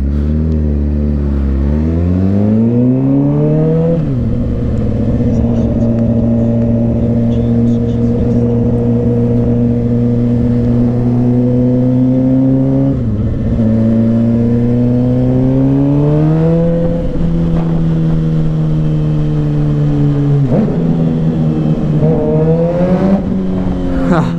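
A Suzuki GSX-R motorcycle engine revs through rising gear pulls during a ride, loud and close, with pitch climbing then dropping at each shift across several cycles.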